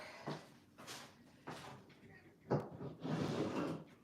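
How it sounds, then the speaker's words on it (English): A door being shut indoors in a home, heard as a handful of separate knocks, clunks and rattles spread across several seconds, close by and fairly soft. "Let me just shut the door."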